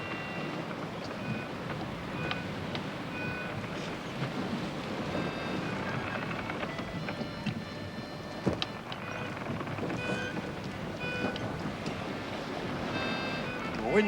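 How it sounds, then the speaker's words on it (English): Wind blows steadily aboard a sailing ship at sea, a broad, continuous rush mixed with water wash, heard for the whole stretch with no talk over it. "The wind's freshening."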